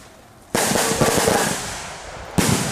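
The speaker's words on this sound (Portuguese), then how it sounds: "A gente vai soltar uns rojões agora, mas ainda são efeito especial, né?" Fireworks rockets let off at a gathering, a sudden loud burst of crackling, popping blasts that carry on and fade, then a second sharp burst starts near the end.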